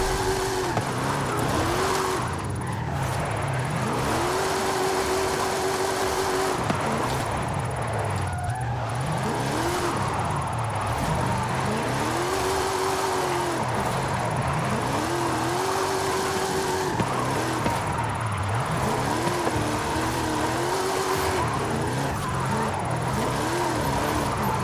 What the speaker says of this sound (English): The fastest car I have is the Venom F5